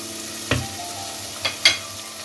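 Chopped tomato frying with garlic, ginger and spices in a pan, a soft continuous sizzle broken by three sharp stirring scrapes, close and alone without speech.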